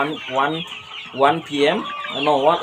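Chickens on a farm raising about 500 birds cluck in a run of harmonic, stuttering calls, loud and close, alone without talk.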